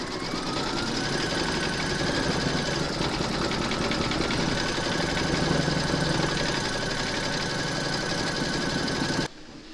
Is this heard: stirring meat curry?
no